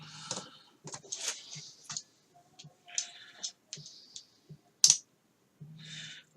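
A snap-blade knife cutting through a foam wing, with a series of short, close, dry crackling and scratching strokes separated by brief pauses, one sharper snap near the end, no talk.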